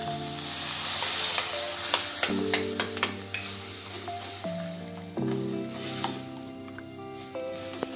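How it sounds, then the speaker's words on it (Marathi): Potato halwa with milk just added being stirred by a spoon in a pan, a soft continuous sizzle broken by repeated clinks and scrapes of the spoon against the metal, close up. "दूध घातल्यानंतर त्याला चमच्याने परतवायचं आहे"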